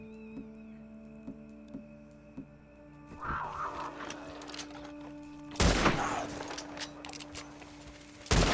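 A few gunshots ring out in Red Dead Redemption 2, including a sharp loud crack partway through, over a steady ambient hum and quieter background noise.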